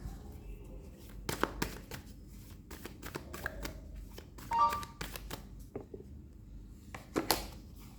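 Tarot cards are shuffled and drawn close up, with quiet riffling and sharp slapping snaps in irregular bursts against a low hum.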